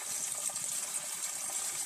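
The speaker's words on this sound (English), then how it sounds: "The water running here is a little cooler, but still warm." Warm water runs steadily from a tap for scrubbing potatoes, a continuous, moderately soft hissing gush with no talk.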